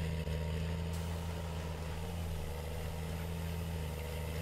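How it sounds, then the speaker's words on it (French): Low, steady engine drone of a John Deere tractor idling and running in a farming video game, with a constant hum and even rumble throughout, no voices. "j'adore le bruit moteur de ce tracteur"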